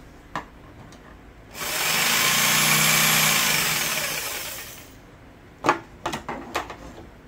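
A power tool cuts through material in one loud, close, steady burst of about three seconds, followed by a few sharp handling clicks and knocks, with no speech.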